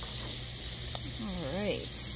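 Pre-cooked shrimp sizzles on a Blackstone griddle with a steady, close, bright hiss that holds throughout, while a brief warbling, voice-like tone rises over it partway through.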